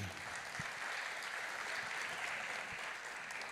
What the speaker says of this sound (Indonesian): tepuk tangan untuk Grecia Poli